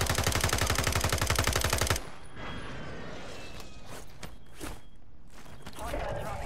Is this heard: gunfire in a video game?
yes